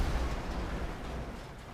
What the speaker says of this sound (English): That was a surprisingly okay explosion.